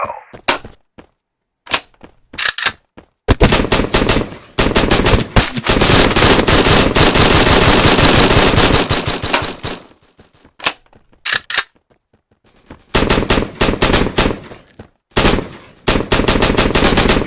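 Loud, rapid bursts of automatic gunfire in the Valorant match between SEN and BLG at VCT Toronto, with short shots early on, then a long sustained spray in the middle and more clustered bursts near the end.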